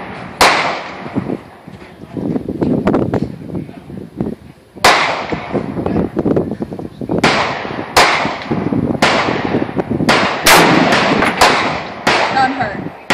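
M1 Garand rifle shots ring out one after another, sharp close cracks with ringing decay spaced a second or two apart over the whole stretch, mixed with handling noise and people talking in the background.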